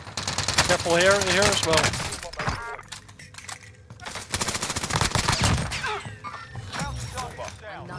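Gunfire aimed at the player in Call of Duty Warzone: sharp cracking bursts come in two clusters, mixed with game sounds and someone talking over them.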